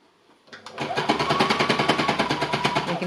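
A sewing machine stitches through two layers of linen, starting after half a second and running in a steady rapid mechanical chatter, close and loud, with no talking.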